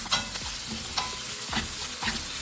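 Peppered snails being stirred in a frying pan, with a spoon scraping in several distinct strokes over a steady sizzle, close and moderately loud.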